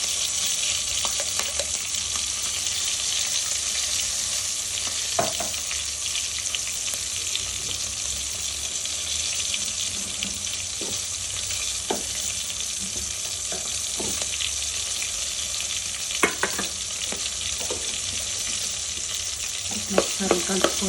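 Ginger garlic paste fries in a pan for dal charu with a steady, broadband sizzle that never lets up, while a few faint scrapes and clinks come through now and then; no one speaks.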